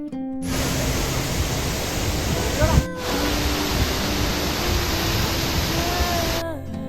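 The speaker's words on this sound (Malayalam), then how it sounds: "ഇന്ന് നമ്മൾ ഇവിടെ നിൽക്കുന്നത് ആതിരപ്പള്ളി വെള്ളച്ചാട്ടത്തിലാണ്" Athirappilly waterfall in Kerala roars as a dense, continuous broadband rush of falling water, loud and unbroken throughout, with faint voices and a brief thump buried under the torrent.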